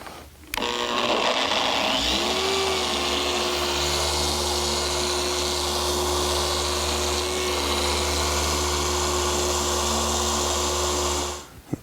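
A machine polisher works Jescar compound with a microfiber pad on the hood of a Porsche GT3 RS. It spins up after a brief start and holds a steady, close, high whine for about ten seconds before cutting off.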